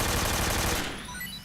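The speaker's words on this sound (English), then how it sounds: "let's use my AK here" An AK rifle in the Metal Gear Solid 3 video game fires a rapid, loud burst of automatic shots lasting under a second, then the echo decays into quiet.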